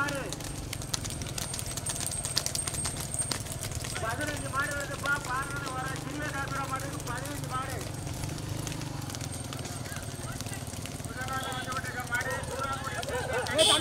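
Bullocks run hard in a rekla bullock-cart race, a continuous rumble of hooves and wheels under loud crowd shouting and commentary.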